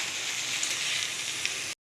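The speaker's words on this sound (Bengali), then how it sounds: "এবার একটু ভালো করে নেড়ে নেব, 5 মিনিট মতো নাড়বো।" Drained soaked rice stirred in a hot pan for homemade chicken biryani, a loud continuous close sizzle and frying hiss that cuts off abruptly near the end.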